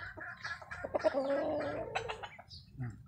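Brood stag rooster, a Kelso and Claret cross from Zamboanga, giving a short run of clucks and throaty calls lasting a couple of seconds, fairly close, with no talk over it.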